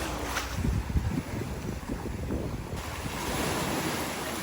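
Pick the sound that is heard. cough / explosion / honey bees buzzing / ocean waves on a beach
ocean waves on a beach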